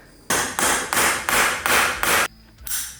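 Heavy hammer blows strike steel while a car U-joint is driven into place, six loud evenly spaced impacts followed by a lighter seventh, close up and without talk.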